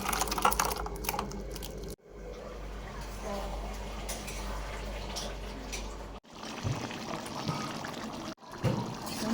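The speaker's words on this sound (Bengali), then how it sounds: "ডালটাতে আমি একটা পাতিলাতে ঢেলে নেব।" Cooked lentil dal is poured from the cooking vessel into a pot in a Bengali home kitchen, making close, wet, sloshing and scraping pours in a few separate takes.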